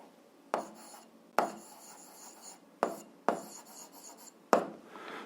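A pen writing out an algebra solution makes close scratchy strokes on paper, five or six distinct scrapes separated by short pauses, quiet and alone.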